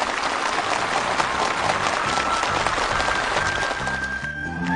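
Participants at a housing move-in ceremony for farm workers in North Pyongan applaud warmly, a thick, sustained wall of clapping from a large crowd, heard alone.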